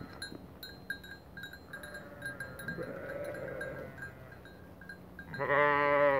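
Sheep heading out to a green pasture, with a low murmur of the flock followed by a loud, close, drawn-out bleat at the end.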